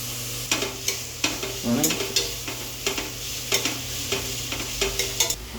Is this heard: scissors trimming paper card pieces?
no